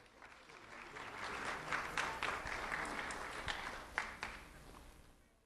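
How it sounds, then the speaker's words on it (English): An audience applauds a student at a sheriff's office youth recognition ceremony. The clapping is steady and moderately distant, swelling briefly with a few sharper claps before it fades out. "Let's have a round of applause for Eugene Lee."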